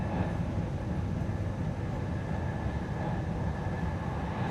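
An Alfa Pendular train travelling from Porto to Lisbon, a loud steady rumble and low roar heard from inside the carriage, unbroken and without talking.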